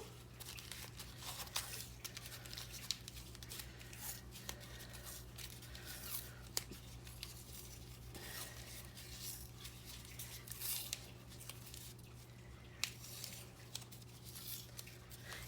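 Tape is wrapped and pressed around a small sock ball for an art toy, soft crinkling, tearing and rubbing noises close by but very faint, over a low steady hum.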